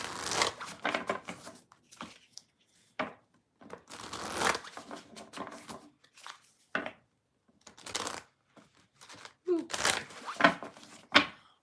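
Tarot cards being shuffled by hand in bursts of riffling and rustling, with short pauses between, close and moderately loud, on a chilly rainy day in Washington state.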